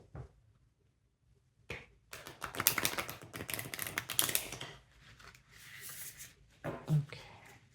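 Tarot cards being shuffled by hand, a run of soft riffling and papery flicks that starts after a quiet opening and comes in close, uneven bursts.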